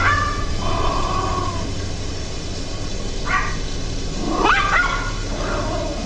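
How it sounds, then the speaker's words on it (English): A dog barks a few scattered times at a distance inside a house, with whimpering yelps between, over a steady background hum. "A sudden bark echoed through the house"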